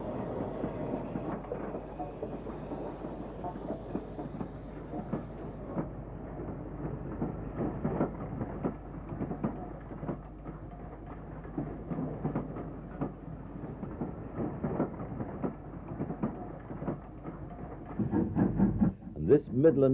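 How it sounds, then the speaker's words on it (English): A Stanier 8F steam locomotive heading a breakdown train rumbles past at Stetchford, a continuous heavy rolling clatter with rhythmic rail knocks throughout, growing louder toward the end. "The Stanier 8F on the breakdown train was also filmed at Stetchford."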